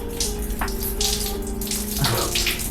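A weak shower runs in a hotel bathroom, a steady close hiss of thin water spray with slight splashing fluctuations and no voices.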